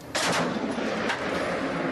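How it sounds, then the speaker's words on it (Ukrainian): Loud bursts of gunfire crack out from the windows of an apartment building, followed by a sustained rumble of noisy shooting that continues to the end. "бойовики стріляють із вікон житлового будинку"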